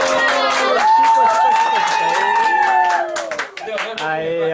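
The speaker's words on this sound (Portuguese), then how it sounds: "Aqui acabamos de bater palmas aqui" Group hand clapping at a birthday party on a family farm in Piçarras, a steady run of sharp claps mixed with voices singing the birthday song, loud and close throughout.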